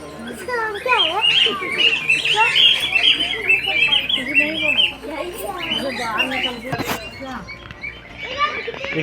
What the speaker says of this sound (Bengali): এই পাখিগুলো কি সুন্দর দেখুন